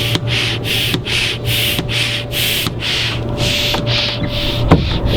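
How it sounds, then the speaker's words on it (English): A dented kayak hull fills with air from a pump while pressure builds and air hisses out of the hatches, heard as rhythmic, loud rushing pulses of air with a steady low hum underneath. "you'll start to hear pressure building up and air escaping out of the hatches"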